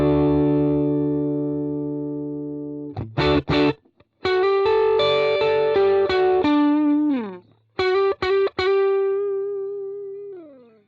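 An electric guitar through an overdrive in a worship rig gives a stinging, bright distorted tone, with a long sustained chord, then choppy strummed chords and held bending notes, loud and close with no talking.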